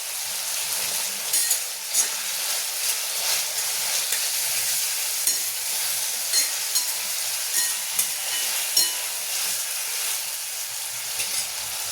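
Ginger garlic paste sizzles loudly in a pan with onion and tomato for paneer pulao, a continuous bright hiss with small pops and stirring bursts, close and alone.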